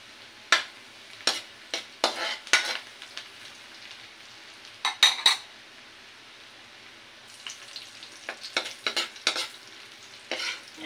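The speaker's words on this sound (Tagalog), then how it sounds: "Yan, papulahin natin ang ating bawang" Garlic sizzling in a pan for buttered shrimp and crab, with repeated sharp scraping strokes of a utensil stirring at an uneven rhythm over a soft, steady fry, close and clear.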